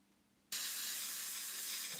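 An airbrush sprays paint while painting fur on a shield. After half a second of near-silence, a steady, loud, close hiss cuts in and holds without a break to the end.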